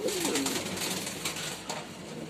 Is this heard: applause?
no